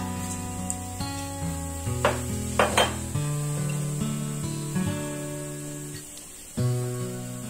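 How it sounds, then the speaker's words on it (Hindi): Two spoons of cumin seeds hit hot mustard oil in a pan, bursting into a bright, close sizzle with a few scraping stirs and utensil clinks over steady background music. "तेल गर्म हो गया है, इसमें 2 चम्मच जीरा"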